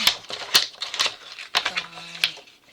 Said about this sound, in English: Now we'll cut this down to